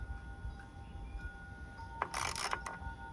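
A ratchet with a 13 mm socket tightens nuts on a BMR strut tower brace on a 2017 Dodge Charger Scat Pack V8: a brief, close burst of rapid clicking after a quiet stretch.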